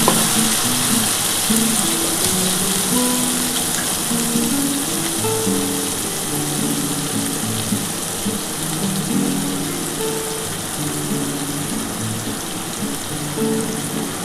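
Spiced water goes into a hot pan of tilapia jhal, and a steady, even sizzle with a fine bubbling hiss carries on alone for the whole stretch, with no voice over it.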